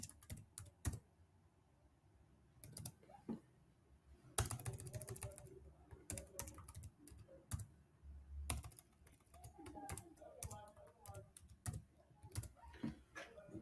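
Quiet, close clicks of a computer keyboard as a password is typed, coming in short irregular bursts separated by pauses, with no speech over them.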